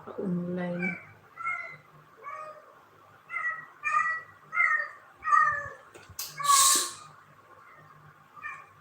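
A cat meows repeatedly, about eight distinct calls spaced roughly a second apart, clear and fairly close against a quiet background, with a harsher, noisier burst near the end.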